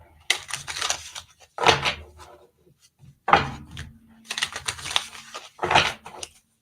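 Tarot cards being shuffled at close range, with several bursts of papery riffling and rubbing separated by short pauses and no talk over them.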